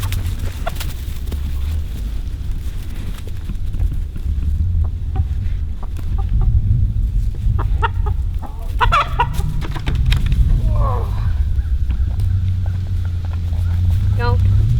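Backyard hens wearing fabric saddles cluck and murmur in their coop, a steady close chorus with occasional louder squawks, while people talk nearby throughout.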